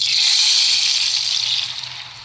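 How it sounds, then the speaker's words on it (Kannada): Potato sev dough sizzles and hisses as it is pressed into hot oil, a bright, continuous frying crackle close up, easing slightly toward the end. "ನೋಡಿ ಸೇವ್ ಹಾಕ್ತಾ ಇದ್ದೀನಿ ನಾನು ಎಷ್ಟು ಚೆನ್ನಾಗಿ ಇಳಿತಾ ಇದೆ ಅನ್ನೋದು ನಿಮಗೆ ಗೊತ್ತಾಗುತ್ತೆ"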